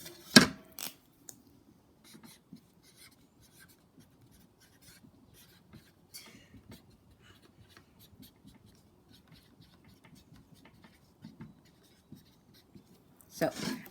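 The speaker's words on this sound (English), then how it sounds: "Let me write these out for you." Math problems written out by hand with a pen or marker: quiet, scratchy strokes scattered across the whole stretch, with louder handling knocks at the start and end.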